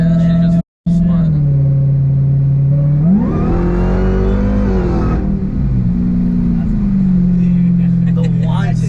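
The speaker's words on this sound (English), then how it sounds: "The whine's almost as loud as your exhaust." A 1,000whp supercharged Dodge Hellcat holds a loud, steady exhaust drone with high supercharger whine, surging in pitch and volume as it accelerates midway, then settling back to cruising; people talk inside the car throughout.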